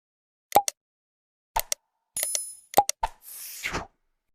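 A notification-style bell sound effect: a quick series of sharp, close pops and clicks with short bell-like dings, ending in a brief airy swoosh, all alone against silence.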